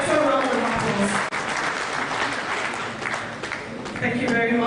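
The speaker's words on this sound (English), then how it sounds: "Please give him a better round of applause." Loud, sustained audience applause at an engineering council's presidential investiture in Nigeria, dense clapping with crowd voices and cheers throughout.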